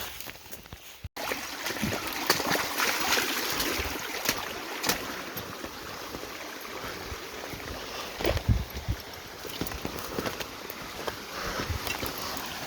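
A creek flowing over rocks on a wooded hike, a steady close rushing and babbling that stays even throughout, with a sharp click near the start and no talk.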